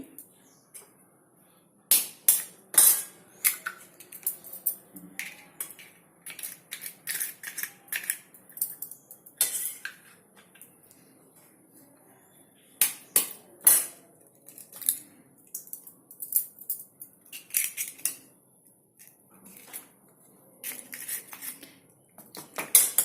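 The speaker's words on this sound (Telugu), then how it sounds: "ఎగ్స్ కొట్టి బాగా బీట్ చేద్దాము" Three eggs mixed with masala are beaten briskly in a bowl, giving quick runs of sharp clinking and tapping strokes in uneven bursts, near and fairly loud.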